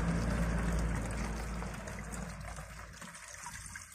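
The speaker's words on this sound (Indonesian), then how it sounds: "Nah ini saya gunakan teko, jadi biar memudahkan nanti untuk menuangkan ke botol" Liquid pours steadily from a teko kettle into a bottle as fertilizer is prepared for keladi plants, a close, continuous gushing rush that slowly thins toward the end.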